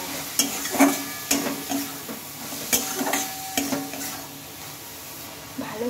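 Soybean chunks and boiled lentils being stirred with spices in a pan, with a spatula scraping and clinking repeatedly against the metal over a low background sizzle.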